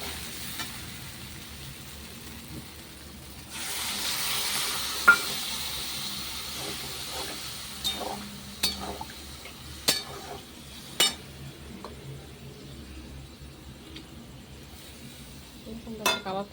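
Rice and soybeans stir-fry in a pan after water is added, giving a soft steady sizzle with occasional sharp clinks of a utensil against the pan, quiet and close.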